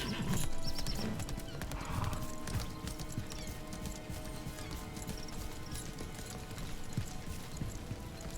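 Horses in the Lost Ark video game, a fast clip-clop of hooves with whinnies rising over the galloping, loudest at the start and then settling into a steady trot-like rhythm without speech.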